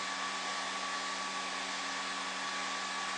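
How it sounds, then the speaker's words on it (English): Several hair dryers running together make a loud, steady broadband roar with a constant motor whine, unbroken and close throughout. "10 hairdryers at once create a real racket."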